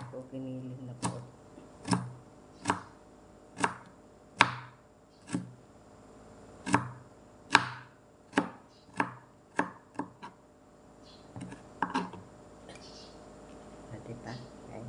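Onions and carrots being chopped with a knife on a cutting board, about a dozen sharp, evenly spaced chops close by, then a few softer ones, with quiet background talk.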